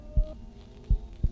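Heartbeat in a Minecraft horror map: three low, thudding pulses at uneven spacing, fairly soft, with a faint steady hum underneath and no talking.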